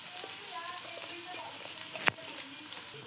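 Sauces being stirred together in a frying pan while making paneer chilli, a faint steady sizzle with light scraping and one sharp clink of a utensil against the pan.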